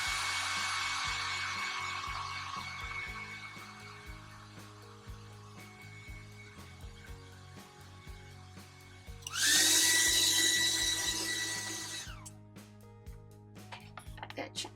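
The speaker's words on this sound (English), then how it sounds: "I'm going to continue to dry this right here." A hair dryer blows hot air over a wet watercolor leaf painting. It runs as a loud, steady whir that falls quieter for a stretch, then roars up again for a few seconds before cutting off near the end.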